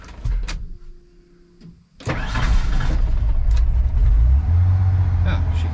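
A 1993 Ford F150 4x4 pickup engine cranks with the starter whirring, then fires and settles into a loud, steady idle close by, with brief clunks beforehand.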